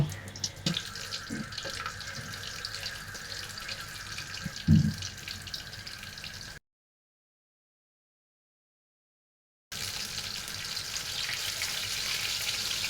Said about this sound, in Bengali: এখন আমি এগুলো তেলের ভিতরে দিয়ে দিলাম